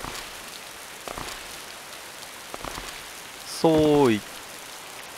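Rain falls steadily in the disaster survival game Disaster Report 2, a constant soft hiss. A short voice cuts in, and a brief bright electronic chime sounds near the end.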